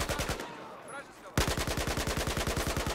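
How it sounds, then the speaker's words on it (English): Rapid automatic gunfire from two sides in a Battlefield 4 squad deathmatch on the Rogue Transmission map: a dense burst, a short lull with distant shots, then a loud, steady stream of close rapid-fire rounds. "We've got two teams from either side shooting."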